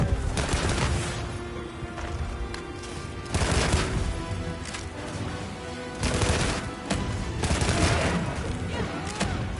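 Heavy bowgun rapid fire mode in Monster Hunter Wilds unleashes loud bursts of rapid automatic shots in several clustered volleys, dense and close, with impact crashes and game effects between them.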